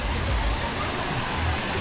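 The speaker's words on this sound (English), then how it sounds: "Waterfall. Look at this, guys." Waterfall at Cat Cat Village in Sapa, Vietnam: a steady, full rush of falling water that fills the whole clip at an even level, close and continuous.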